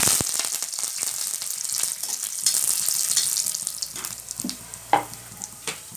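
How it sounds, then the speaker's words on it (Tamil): Mustard seeds, chana dal and curry leaves tempering in hot oil for sundaikai poriyal, a close crackling sizzle with occasional sharp pops and stirring scrapes, no speech. "கடுகு போட்டுக்கலாம் வந்து கடலைப்பருப்பு போட்டுக்கலாம் கருவேப்பிலை"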